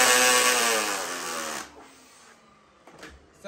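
A Dyson DC14 vacuum cleaner running loud and whining, its head pressed down until it ratchets, then the motor winds down and fades, leaving a few faint clicks and knocks near the end.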